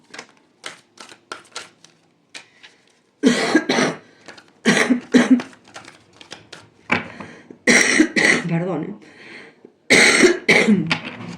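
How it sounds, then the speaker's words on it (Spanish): A person coughs repeatedly in harsh bursts, some close and loud, with softer clicks and a brief spoken word between fits. "Escuchar a una persona que tose y tose y tose."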